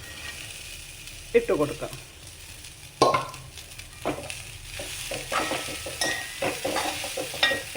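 Chopped green beans sautéing in a pan, with a steady soft sizzle and several sharp scrapes and stirs of a spoon against the pan. A few short spoken words come in under the cooking noise.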